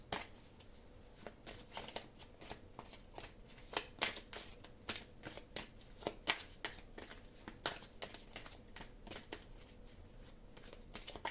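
Tarot cards being handled and shuffled close up, a quick series of soft papery riffles and flicks in uneven bursts, quiet and alone without voices.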